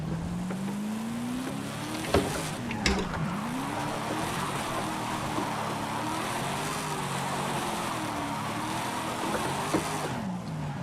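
A car drifts in Forza Horizon 5 after an e-brake initiation. The engine drones at a steady, rising and wavering pitch, held near the rev limit, with a couple of brief sharp knocks partway through.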